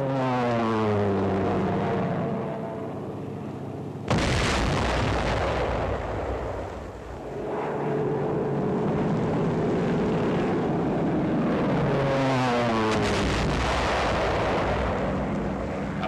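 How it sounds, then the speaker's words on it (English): WWII dive bombers of the American Air Forces attack heavily fortified enemy positions in China, with loud aircraft engine roars diving and pulling away, mixed with a sudden blast and rumbling explosions. "Dive bombers of the 10th and 14th American Air Forces attack heavily fortified enemy positions."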